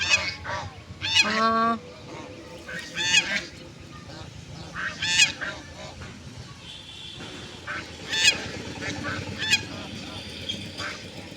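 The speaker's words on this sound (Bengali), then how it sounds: "মা হাঁসটি কীভাবে চিল্লাচিল্লি করে দেখেন" A mother duck squawks loudly and harshly in repeated bursts near her ducklings, with brief pauses between calls and a quieter outdoor background.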